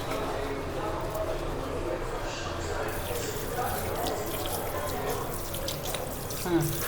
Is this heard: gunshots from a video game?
no